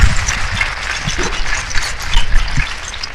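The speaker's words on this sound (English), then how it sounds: "let's congratulate these kids in our champion drive with a big round of applause" A county fair crowd applauds the kids in a champion drive with a loud, close burst of clapping that stays steady for a few seconds.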